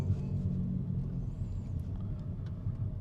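Low steady engine rumble from a Honda Civic RS hatchback idling through a bolt-on aftermarket exhaust, a continuous deep drone close by with no talk over it.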